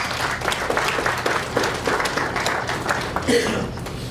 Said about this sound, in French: Est-ce qu'on peut l'applaudir pour sa présence?